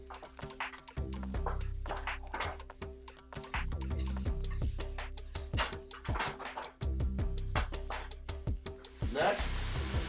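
Green onions sizzle and crackle in a hot pan, with a steady frying hiss broken by the taps and scrapes of stirring and a speaker talking over it.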